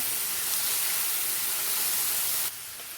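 Tomato and onion sautéing with turmeric in a pan for an egg masala curry, a steady close sizzling hiss that drops slightly in level near the end.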